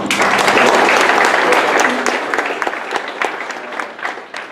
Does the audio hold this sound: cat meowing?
no